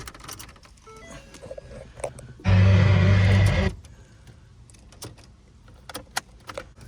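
A car key clicks and jingles as it goes into the ignition of a Mercury Milan, with a loud, steady buzzing burst lasting about a second in the middle and scattered small taps around it.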